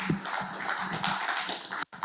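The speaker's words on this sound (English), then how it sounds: "Let's give Caesar another round of applause, please." A conference audience claps after a talk on real estate development for business owners, a dense, even patter of hands lasting about two seconds before cutting off abruptly, then briefly resuming.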